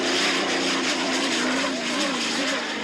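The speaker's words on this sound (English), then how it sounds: "That turbocharged, fuel-injected Allison engine." A hydroplane racing boat powered by a turbocharged, fuel-injected Allison engine roars steadily at a distance, its droning whine rising and dipping slightly as it runs through a turn at a race on the river at Madison, Indiana.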